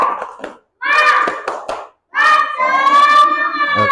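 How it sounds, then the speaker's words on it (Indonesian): Children in a classroom perform a rhythmic group spirit clap in short bursts separated by pauses, with young voices chanting along between and over the claps. "Kita beri tepuk tangan dulu."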